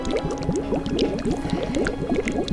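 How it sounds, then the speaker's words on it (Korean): Steady bubbling and gurgling like water boiling in a kettle, close and continuous with irregular pops over the whole stretch. "주전자에서 물 끓는 것 같은 소리가 나지 않습니까?"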